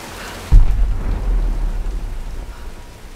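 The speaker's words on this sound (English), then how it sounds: "Nah, let's wait out the storm." A sudden loud thunderclap cracks over steady rain in the video game Tomb Raider, then rumbles and slowly fades beneath the continuous downpour hiss.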